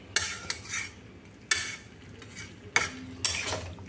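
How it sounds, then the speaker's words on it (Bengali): Mustard paste and vegetables for Bengali shukto are stirred and fried in a pan, with several sharp scraping strokes of a spoon against the metal over a soft, steady sizzle, heard alone at close range. "এগুলো দিয়ে একসাথে নেড়ে সব কিছুই তো ভাজা হয়ে গেছে"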